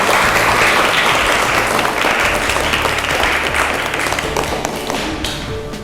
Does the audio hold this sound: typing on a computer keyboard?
no